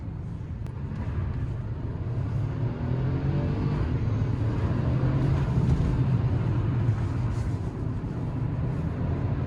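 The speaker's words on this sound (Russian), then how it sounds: "машина довольно-таки очень хорошо набирает" A Geely Coolray with adaptive cruise, riding on 16-inch wheels with studded winter tyres, accelerates: a steady engine and road drone heard from inside the cabin, continuous and fairly loud, with no one talking.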